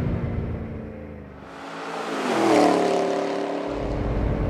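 A 2013 Chevrolet Camaro V8 accelerates hard, a loud engine roar that fades slightly, then swells with rising pitch through the gears, sustained and close without any talk.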